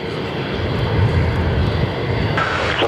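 A jet airliner roars loudly and continuously during takeoff from runway 03 at Perth Airport, a broad dense rumble heard up close with no voices.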